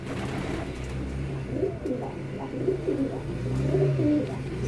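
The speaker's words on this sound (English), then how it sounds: "Look at all those wet little birds." Pet birds huddle together drying off indoors after a bath and give soft, repeated cooing calls in a low, steady background.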